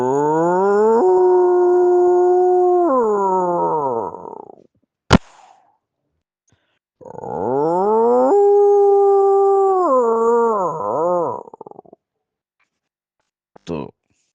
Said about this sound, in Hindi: ये थी कुत्ते के रोने की आवाज।